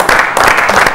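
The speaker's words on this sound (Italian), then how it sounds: "Fateli un applauso al mister, ragazzi." Brief, close applause for a volleyball coach in a television studio, a quick burst of group clapping lasting under a second.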